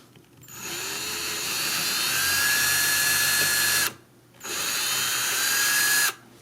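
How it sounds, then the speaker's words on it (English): A power drill whines at high speed while boring a pilot hole into a wall, running for several seconds, pausing briefly, then spinning up again for a second burst, close and alone. "we drill our pilot hole dead center here"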